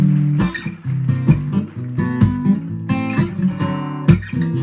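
Acoustic guitar chords strummed on a Takamine in an uneven rhythm, bright and close, with ringing strings between strokes and no talking.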